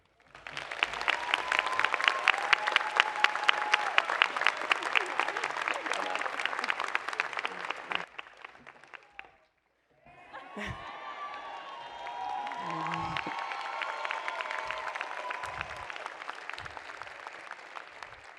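A commencement audience applauds as speaker Sabrina Rencher is welcomed to the podium. The clapping is dense and loud, with cheering mixed in. It breaks off briefly, then resumes, steady and sustained.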